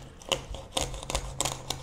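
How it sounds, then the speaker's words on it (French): Several sharp, brittle cracks and snaps spaced irregularly as a knife runs along a fish's backbone, crunching through the bones while filleting, close up and fairly quiet. "Vous voyez les arêtes qui craquent là, ça c'est le bruit des arêtes"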